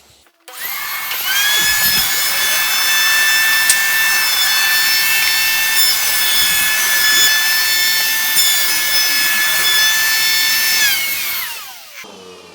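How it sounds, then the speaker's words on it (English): A power tool, likely a router, rounds over the outside edges of timber pieces for a LEGO table, running in one steady, loud, continuous whine for about eleven seconds before spinning down, with no talking. "first thing I'm going to do is just round over all these edges on the outside"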